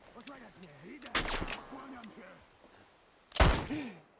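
Several sharp gunshot bursts from The Last of Us on PC, a cluster near the middle and a loud blast later, with someone talking in between.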